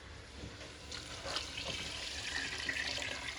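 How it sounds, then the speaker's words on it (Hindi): Water pours steadily into a pot holding bottle gourd and chana dal, a soft continuous splashing trickle heard close, quiet and alone. "तो इतना पानी डालना है कि हमारी लौकी और चने की दाल दोनों गल जाए"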